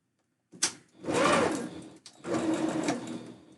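A sewing machine stitches seams on a blue husky tail costume in two sustained bursts, close and loud, with a short pause between runs and a brief click at the start.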